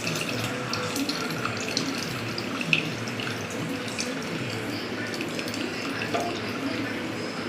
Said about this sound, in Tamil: புளி தண்ணி சேர்த்திட்டோம்.